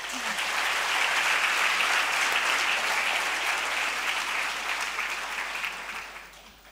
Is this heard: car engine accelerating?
no